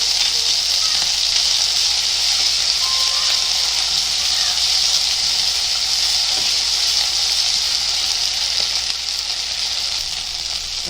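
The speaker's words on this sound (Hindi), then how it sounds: "अभी अदरक लहसुन और मिर्ची, हरी मिर्ची डाल देंगे। अच्छे से भूनेंगे" Ginger, garlic and green chili fry in hot oil, a loud, steady close-up sizzle with faint crackling that runs unbroken throughout.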